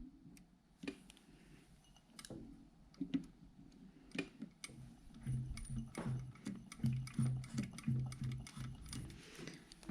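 A sewing machine stitches a jacket welt pocket in short bursts of rapid mechanical chatter, separated by pauses and small clicks, fairly quiet and close.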